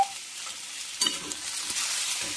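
Carrots, cauliflower and peas stir-fried in a pan, a steady close sizzle with scraping stirs and a few spatula knocks throughout, no voices.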